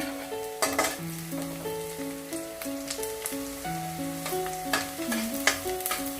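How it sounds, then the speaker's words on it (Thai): Shallots and garlic stir-fry in a pan, a steady sizzle broken by repeated scraping strokes of a utensil against the metal, close and fairly quiet, with a faint melody running underneath. "ขออนุญาตผัดต่อก่อนนะคะ พอหอมเริ่มสุกแล้วเราก็จะใส่กระเทียมลงไปนะคะ"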